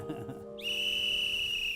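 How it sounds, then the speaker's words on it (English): A single sustained high-pitched whistle starts after a brief pause and holds steady and clear for over a second, preceded by faint background sound. "Did anybody hear a whistle earlier?"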